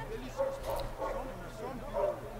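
A dog gives a few short, yelping barks and whines at moderate distance, in uneven bursts over a low background hum.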